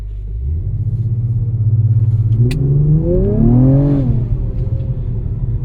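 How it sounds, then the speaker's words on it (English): A 2024 Acura TLX Type S engine holds a steady idle-like drone, then climbs in pitch as revs build during launch control, peaking and dropping back before a lower rumble continues, loud and close. "you're going to kind of hear it just kind of building, waiting for you to release the brake, and then the vehicle will go"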